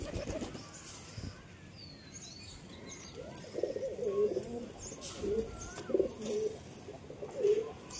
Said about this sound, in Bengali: এই যে পায়ে মোজা পর আছে কবুতরটা তোমাদের ছেড়ে দেখায়।